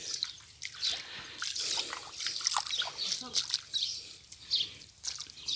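Spring water gushes up from the ground and splashes and trickles steadily nearby at one of the twelve springs in Saudi Arabia, a bright continuous wash of water with someone talking over it.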